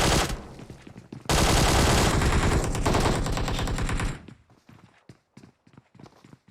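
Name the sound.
hip fire gunshots in PUBG Mobile video game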